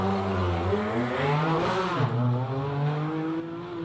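A Class B5 hillclimb race car, Franco Scribante's monster from down under, accelerates hard up the Simola hill, its engine note loud and continuous with rising and shifting revs, heard without talk.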